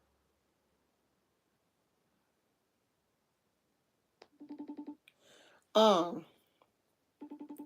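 Two quick bursts of touch-tone telephone dialing beeps, each a rapid run of about five keypresses, sound close and clear in an otherwise quiet room. A voice speaks briefly between the two bursts.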